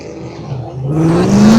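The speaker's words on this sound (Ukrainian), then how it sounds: "Ще одна тачка приїхала" A race car arrives at a track on an ordinary test day, its engine note climbing steadily as it approaches, growing from a moderate drone to a loud, close whine within under two seconds.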